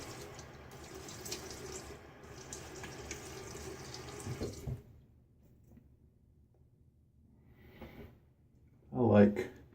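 A bathroom tap runs water steadily into a sink while a man wets his face before shaving, a continuous splashing wash that stops partway through, followed by a brief louder splash near the end.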